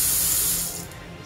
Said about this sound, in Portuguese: E a água cai aqui na cuba